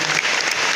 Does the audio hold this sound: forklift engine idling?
no